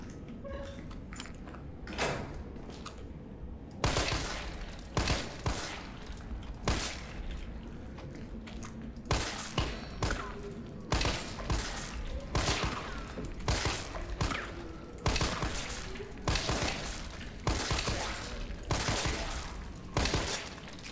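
Shotgun blasts in Resident Evil 3 ring out repeatedly, sharp loud booms in a steady rhythm of more than a dozen shots over twenty seconds, with little talk.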